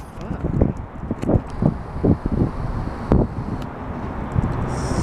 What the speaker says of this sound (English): It's super windy all of a sudden.